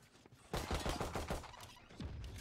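Gunfire in the Valorant video game, a burst of rapid shots after a quiet start, crackling in quick succession, then a few more scattered shots, moderately faint in the mix.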